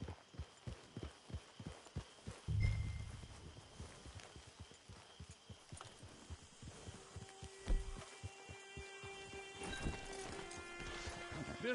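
A horse walks in the video game Red Dead Redemption 2, its hooves producing steady rhythmic clip-clop thuds, fairly close and even, with a low hum and a few tonal game sounds in the background.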